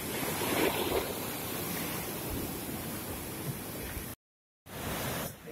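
Waves roll onto the beach at Lhok Geulumpang near Calang in Aceh Jaya, a continuous broad wash of surf with wind buffeting the microphone, briefly cutting to silence before the surf resumes.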